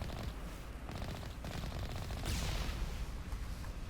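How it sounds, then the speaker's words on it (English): Enemy gunfire in the Mass Effect: Legendary Edition Geth Incursion mission, a dense, continuous rattle of automatic shots with a loud burst near the middle, no voices. "They're already shooting at me."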